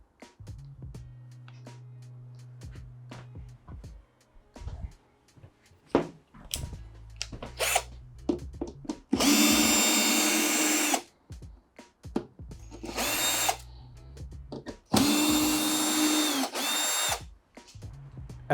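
A power drill backing screws out of a Samsung washing machine: a few loud whirring bursts of a couple of seconds each, separated by handling clatter and quiet gaps.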